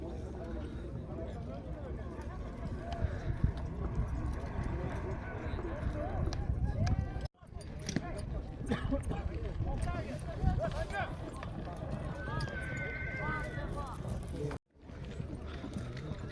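Horses gallop during an ulak match, with a dense rumble of hooves and crowd noise beneath nearly constant commentary that drops out twice.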